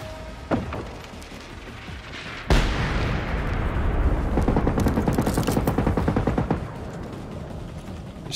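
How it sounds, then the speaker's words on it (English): Missile launch and explosion in Generation Zero: a sharp early bang, then a loud blast at about two and a half seconds followed by a rolling, crackling barrage of rapid pops that fades after several seconds. "A missile."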